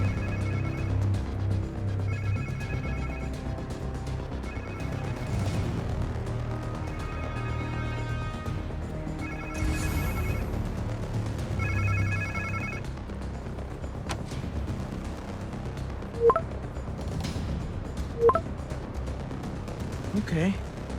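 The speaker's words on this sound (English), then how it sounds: "Sounds like somebody's phone." In Marvel's Spider-Man 2 video game, a phone rings in repeated electronic trills at a steady rhythm amid low in-game background rumble, with a couple of sharp thuds near the end.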